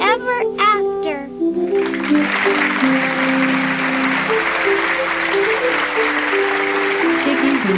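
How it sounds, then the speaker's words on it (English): Loud, steady clapping and applause from a crowd that rises after a short stretch of talking and lasts several seconds. "Tiggy's mother and father clapped loudest of all"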